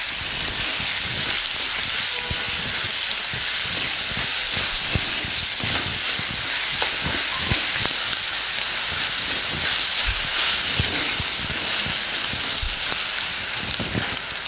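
Turmeric and chili powder fry in a pan for a tempered black chickpea gravy, giving a steady close sizzle with a bright hiss and scattered small pops throughout, no voices.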